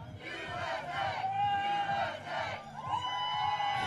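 An archery tournament crowd chanting back and forth in alternating swells of shouting and cheering, several loud rhythmic bursts rising and falling over a few seconds.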